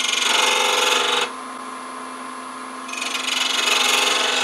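A turning tool slices into spinning wood on a lathe at the corner of the piece, a loud close whirring and cutting that dips to a steadier hum midway and then returns, with no talking.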